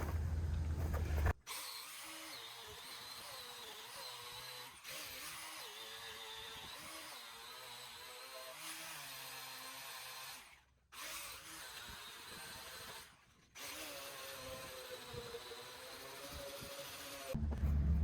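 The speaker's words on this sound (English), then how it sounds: "the problem with the little grinder is it's hard not to leave streaks" A small grinder polishing grime off a cabover truck runs as a steady, close, high whirring drone, stopping briefly twice before starting up again.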